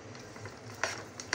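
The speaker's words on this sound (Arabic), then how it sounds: "نقلب كده" Caramel popcorn being stirred in a pot, a soft scraping and rustle of kernels with a few brief louder scrapes, close by and quiet with no talking.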